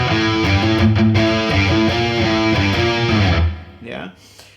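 A heavily distorted electric guitar plays an opening two-bar riff, a chugging, palm-muted low-register figure. It sounds loud and close, then cuts off into a short trailing noise.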